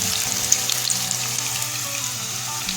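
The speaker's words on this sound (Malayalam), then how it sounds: "നമ്മളിതിനി പൊരിക്കാൻ പോവുകയാണെങ്കിൽ നമ്മൾ വെളിച്ചെണ്ണയിലേക്ക് ഇടുകയാണ്" Steady crackling sizzle of stuffed bitter gourd frying in hot coconut oil, close up and continuous, with a low background hum and occasional light pops.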